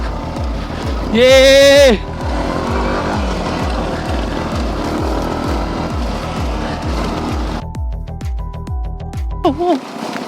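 A Yamaha R15 V2 sports motorcycle engine revs up sharply off-road on a trail, then holds a rough, pulsing drone before easing off and briefly revving again, loud and close.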